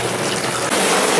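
Abundant groundwater gushing and flowing steadily through an underground sewer collector, a loud continuous watery rush that swells slightly midway, with no voices.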